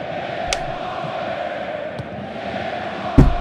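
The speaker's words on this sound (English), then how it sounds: "The crowd are loud tonight, aren't they" Steady, loud crowd roar fills a Premier League football stadium during Chelsea vs Leicester City, broad and continuous with a few sharp claps or knocks rising over the din and a louder swell near the end.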